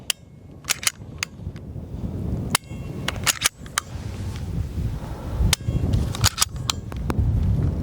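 A Walther PDP Pro-E Compact 4-inch pistol fired at a range, a series of sharp, loud shots in irregular pairs and clusters with short pauses, over a low background rumble.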